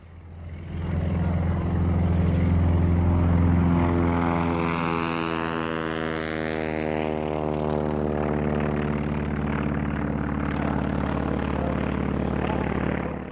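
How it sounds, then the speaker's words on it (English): A late-1920s French Dewoitine D.27 interceptor fighter at the 1996 Duxford airshow, its propeller engine droning loud as it passes, pitch sliding downward in a clear Doppler sweep before settling into a sustained hum. "A timely link then to the oldest aircraft at the show, the Duatine D-27"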